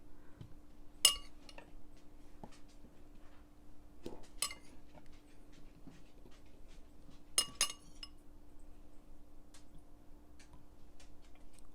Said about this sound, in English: we're going to put a few strawberries in the bottom of each glass